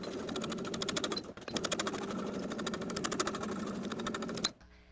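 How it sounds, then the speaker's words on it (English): A sewing machine runs in one steady stitching burst along the open fabric edges, pausing briefly near the start before carrying on and then stopping, close and alone. "we're going to stitch along the open edges to close it up"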